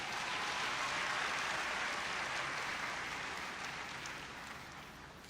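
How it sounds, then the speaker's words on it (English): Sustained, loud applause from a large audience honoring graduates at the 35th convocation ceremony of the Nigerian Defence Academy, a dense wash of clapping that stays steady and then gradually tapers toward the end. "Shall we give all our graduates another resounding round of applause?"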